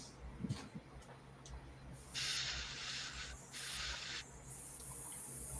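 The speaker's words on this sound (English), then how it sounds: "Get everything out of this airbrush." An airbrush sprays paint in several short hissing bursts, each lasting about a second, close to the microphone and fairly quiet, separated by brief pauses.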